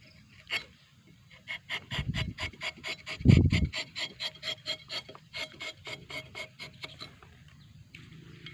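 Steady rhythmic rasping of a rubber tapping knife blade drawn back and forth over a sharpening file, about two strokes a second, close and clear.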